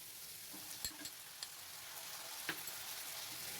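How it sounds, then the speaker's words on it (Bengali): Diced potatoes, carrots and peas sizzle steadily in a hot pan, with a few sharp scraping clicks from the stirring spoon over the constant frying hiss; no voices. "ভালো করে নেড়েচেড়ে নিচ্ছি।"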